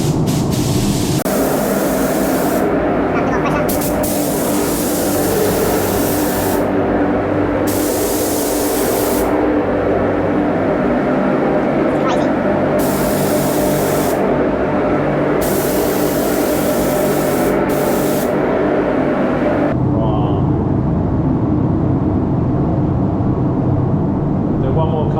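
Aerosol spray paint hissing onto a polycarbonate RC car shell in repeated long bursts separated by short pauses, loud and close, with someone talking between passes.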